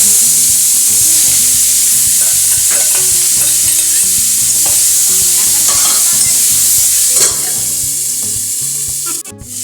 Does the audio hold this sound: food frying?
yes